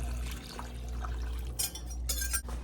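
Chicken broth poured into a cooking pot for tomato basil soup, quiet splashing bursts of liquid with light clinks, faint and close.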